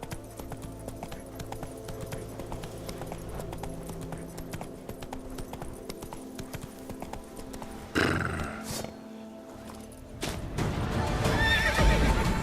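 Roach the horse from The Witcher 3 gallops with a steady rapid clip-clop of hooves, then lets out a loud neigh, with game ambience continuing behind.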